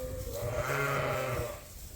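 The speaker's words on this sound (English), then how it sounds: "Good sheep." A sheep on a farm in lambing season gives one long, wavering bleat nearby, loud and clear against quiet farmyard background.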